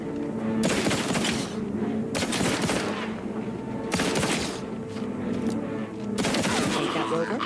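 Heavy combat gunfire in The Outer Worlds 2 comes in several loud sustained bursts, broken by brief lulls, with layered shots and rumbling impacts filling the whole stretch.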